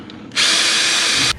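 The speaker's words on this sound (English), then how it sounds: "Now we're using the drill to just pop them out." A power drill whines loudly and steadily for about a second, backing out long bolts during work on a Redeye-modified car, with a short quiet lead-in and no talk.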